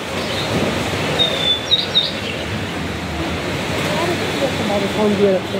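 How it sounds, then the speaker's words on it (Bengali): Brief, faint bird chirps rise twice above a steady hum of background noise inside a shopping mall in Taiwan where plant seedlings are sold. The calls are thin, high and far off, with no talk over them. "পাখির সাউন্ড, পাখি।"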